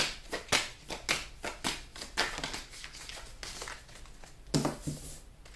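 Tarot cards shuffled by hand in a series of crisp riffling bursts and soft slaps, close and fairly quiet, with an irregular rhythm and no talking.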